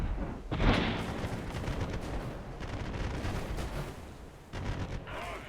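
Cannon fire booms through a naval battle in the pirate game Republic of Pirates, a continuous rumbling barrage of heavy blasts, with a louder burst near the start and another near the end.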